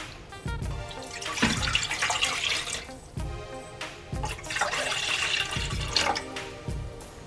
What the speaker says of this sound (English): Pour dashi in the pot.